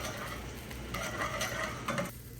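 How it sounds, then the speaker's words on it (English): Chili garlic eggplant being stirred in a pan after a splash of mirin, a faint sizzle with light clicking spatula scrapes, quiet and brief, with no talking. "Stir that around."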